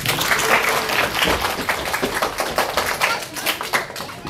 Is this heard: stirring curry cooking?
no